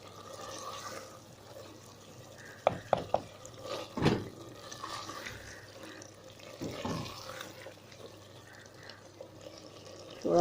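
Water is poured into a cooking pot of black chickpea curry with green chillies, giving a soft, uneven wash of liquid sound with a few clicks and knocks against the pot, fairly quiet throughout.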